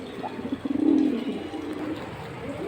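Pigeons cooing in a breeder's loft of fancy pigeons: one close, soft rolling coo swells and fades over about a second, with faint background noise and no speech.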